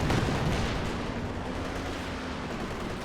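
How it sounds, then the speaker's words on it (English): Heavy artillery fires and explodes in the World War II strategy game Company of Heroes 2. The blasts rumble densely over a constant roar of battle, loud and sustained throughout. "Artillery's coming into this sector."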